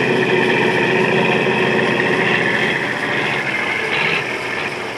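A Euclid 4x2 colliery dumper truck's engine runs with a steady, loud roar and a dense mechanical drone that holds nearly unchanged throughout and eases slightly toward the end.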